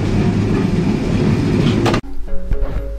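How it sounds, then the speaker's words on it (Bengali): Chilahati Express intercity train roars through Abdulpur Junction without stopping, a loud, close rumble of wheels and cars that cuts off abruptly, leaving quieter station hum with faint tonal sounds. "আব্দুলপুর জংশন থ্রু পাস যাচ্ছে আন্তনগর চিলাহাটি এক্সপ্রেস ট্রেন"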